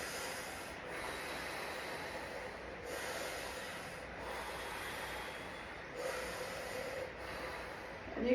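Slow breaths out through the mouth during a stretching class, several soft airy exhales in a steady rhythm, faint and close without talk.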